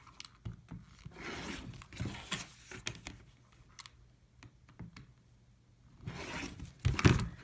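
A machine-stitched quilt block with sticky stabilizer is trimmed along its outer stitching lines, producing bursts of crisp, close cutting and rustling fabric separated by quieter pauses.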